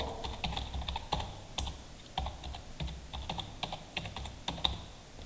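Close, clear typing on a computer keyboard, with quick irregular key clicks running steadily throughout and no talk.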